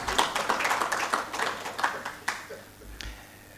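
Scattered applause from an audience at the Uganda Editors' Guild inauguration on World Press Freedom Day, light and fairly distant, thinning out to a few last claps.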